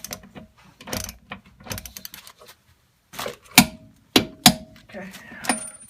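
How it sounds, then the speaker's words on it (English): A hand ratchet clicks in short bursts while tightening the hub center nut on a 2003 Volvo S40 during rear hub work, the sharp clicks close and separated by pauses, with someone speaking between them. "So then let's put the center nut back on."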